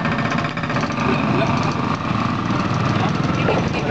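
Motorcycles roll off a ferry at Kuala Kapuas, their small engines buzzing and revving together in a loud, continuous close-up drone with someone talking over them.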